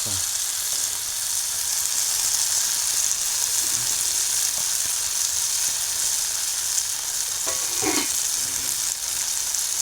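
Chopped ridge gourd sizzles steadily in a hot pan while being stirred, a constant frying hiss with a brief scrape of the spoon near the end.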